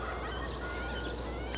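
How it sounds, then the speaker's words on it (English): A wild turkey gobbler gobbles out in the spring woods, faint and distant against steady broadband background noise, with no talking. "We got a gobbler just cranking up here on the right."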